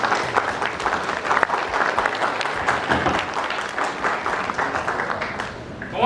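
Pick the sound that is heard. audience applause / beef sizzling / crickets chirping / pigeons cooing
audience applause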